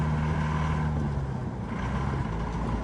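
The tractor diesel engine fitted to a 1955 Land Rover Series One rumbles steadily with a low, droning hum and constant mechanical noise, like a vehicle running from inside the cab.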